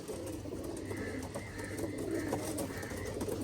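A pigeon coos softly in a repeating pattern of low calls, faint and close against a steady background hum, with no talking.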